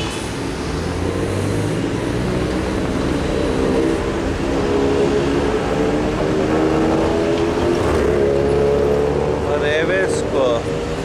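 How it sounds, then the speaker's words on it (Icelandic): Busy Bangkok street traffic roars nearby with steady engine rumble and passing vehicles, a loud continuous wash that lasts the whole stretch, with someone talking over it and a brief high whine near the end. "Svona umferðin, maður verður að reyna að koma sér í gegn"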